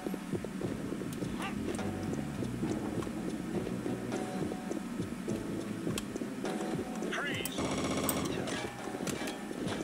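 Rapid gunfire rattles in the shooter video game Chaser, bursts of shots layered over game music and effects at moderate level.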